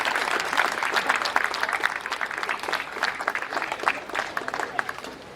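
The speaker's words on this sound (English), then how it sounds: "Round of applause for Kathleen." Audience at the Sheffield magic festival applauds a volunteer, a crisp crowd of hand claps starting strong, dipping slightly in the middle, then swelling again, fairly close and unbroken.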